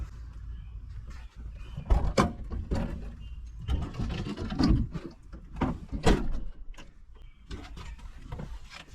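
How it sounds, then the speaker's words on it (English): A Daihatsu Mira walkthrough van's heavy door slides and thuds shut close by, with several knocks and rattles of handling spread across the clip, no voices. "You can now be able to close the door."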